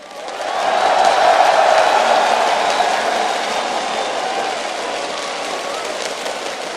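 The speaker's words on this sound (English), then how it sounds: "give them a shout, ladies and gentlemen. They are on the stage. They will hear you." A stadium crowd at a League of Legends finals in the Galen Center roars and cheers as teams take the stage, a broad sustained swell that peaks early and stays loud throughout.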